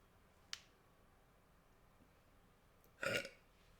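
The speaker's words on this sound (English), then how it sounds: "I have to burp." A single short burp, fairly loud and close, follows a sharp click a few seconds earlier in a quiet room with faint background hiss.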